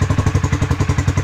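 Rusi Classic 250 motorcycle idling through a modified, drilled stock exhaust: a steady loud, close putter of rapid evenly spaced thumps with a raspy crackling edge, running alone without voices.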